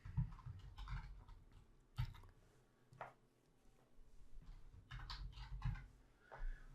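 Someone types on a computer keyboard in short bursts of clicky keystrokes separated by brief pauses, heard close and fairly quiet with no talk.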